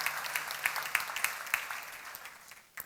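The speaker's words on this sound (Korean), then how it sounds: "박수로 하나 둘 셋." Rhythmic clapping from a church seminar audience, distinct claps in a steady beat at moderate distance, thinning and fading toward the end.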